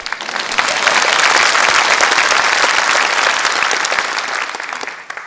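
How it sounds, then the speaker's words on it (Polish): A studio audience applauds warmly after a bow at a Silesian music-and-comedy show, dense clapping swelling quickly and holding strong before tapering off at the close. "Będą brawa."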